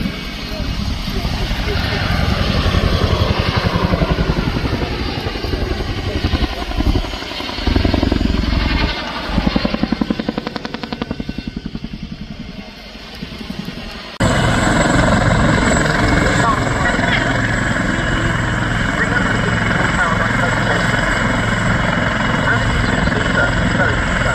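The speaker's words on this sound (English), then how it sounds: "the Chinook demonstrates its incredible power, dominating other helicopters types" A Chinook helicopter roars loudly and continuously at an air show, its rotor and engine thrumming throughout and shifting in tone midway as it passes.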